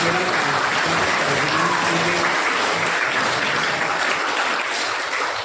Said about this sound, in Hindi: आज की माननीय श्रीमती सुनीता जी पूनिया, जोरदार तालियों के साथ आप